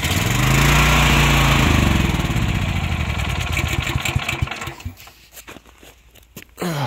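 A snow-bound generator with a balky choke and fouled plugs runs roughly, its loud engine drone sputtering and weakening, then cutting out into near silence with a few clunks before a brief restart burst at the end.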